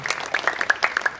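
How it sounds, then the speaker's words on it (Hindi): Audience at a festival stage show in Murthal claps loudly and briskly, sharp individual claps ringing out close by in an uneven, lively burst. "तो उनके लिए भी जोरदार तालियां"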